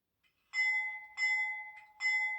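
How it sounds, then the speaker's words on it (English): Bell of an HO scale Rapido C36-7 model diesel locomotive, three clear electronic clangs about 0.7 seconds apart, each ringing and fading, close and alone in otherwise silent surroundings. "So I'm going to ring the bell."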